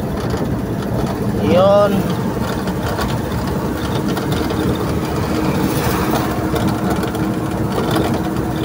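Kia Bongo Porter D4CB diesel engine running steadily at idle after an overhaul, a continuous low rumble close by with people talking briefly over it.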